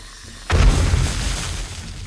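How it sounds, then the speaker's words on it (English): A landmine detonates in the survival video game 7 Days To Die, a sudden single loud boom about half a second in that rumbles and decays over the following moments, with no voices. "I think that lady right there found the landmine"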